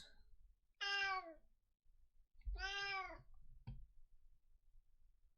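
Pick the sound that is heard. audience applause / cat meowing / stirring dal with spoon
cat meowing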